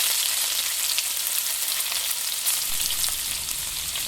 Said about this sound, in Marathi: वाटण घालून कोलंबी यामध्ये चांगल्या प्रकारे परतायची आहे